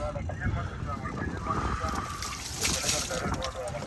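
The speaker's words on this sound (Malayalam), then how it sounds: "നമ്മൾ ഈ വെള്ളം ഒഴിച്ച് കരിയെല്ലാം വൃത്തിയാക്കിക്കൊണ്ട് നമ്മുടെ വെള്ളം വൃത്തിയാക്കി കൊടുക്കണം" Water sloshes and splashes as it is poured over a fishing boat to rinse off soot, a steady wet wash with brief trickles, heard close under a voice talking throughout.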